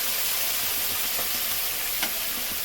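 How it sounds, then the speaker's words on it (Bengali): A ground spice paste with salt fries in hot oil in a pan, giving a steady, dense sizzle that hisses evenly and close throughout, with one brief stir or pop near the end. "কিছুক্ষণ ভেজে নেব।"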